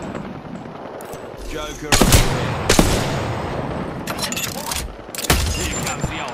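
Rapid bursts of video game gunfire crack out loudly in several volleys, with a brief spoken word between shots.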